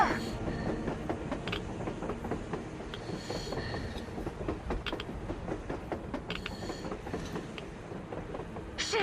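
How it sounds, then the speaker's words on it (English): Rail traffic in the video game Metro Exodus, a train running over surface tracks with a steady rumbling roll, rhythmic wheel clatter and occasional metallic squeals, heard close and continuous with no talk. "A damn train on the surface!"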